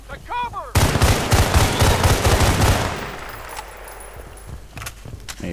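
Rapid automatic gunfire in the video game Battlefield Bad Company 2, a loud close burst of shots lasting a couple of seconds and then fading into quieter scattered sounds.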